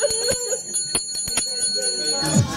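An ice cream cart's hand bell rings in quick, bright repeated strikes, loud and close, with faint voices and clicks around it outdoors.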